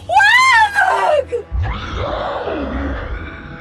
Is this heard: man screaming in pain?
yes